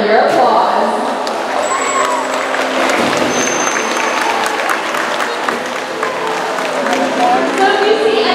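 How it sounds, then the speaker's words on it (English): Audience applause fills the stands at a dolphin show at a marine park, a steady wash of many hands clapping with some crowd noise and cheering, loud and sustained throughout. "There is one sound that our stars never get tired of hearing, and that is the sound of your applause"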